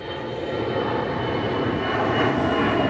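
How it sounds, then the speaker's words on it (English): An airplane passes overhead at an outdoor van camp, a steady broadband engine roar that holds loud and even for several seconds with no talk. "Let's all just have a moment of silence for the plane."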